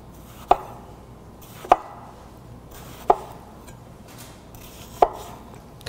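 A knife chops through firm tomatoes onto a cutting board, four crisp, evenly spaced thuds close up, with quiet pauses in between.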